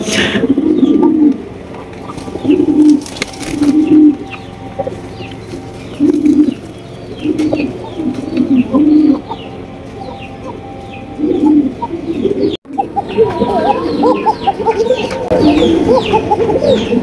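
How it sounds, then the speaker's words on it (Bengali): Pair of Cocka pigeons cooing up close, with repeated low rolling coos in bursts every second or two, alongside bird rustling and a faint clucking chicken in the background. "এখানে রয়েছে একজোড়া ককা কবুতর, দেখতেই পাচ্ছেন ডাকের উপরে আছে"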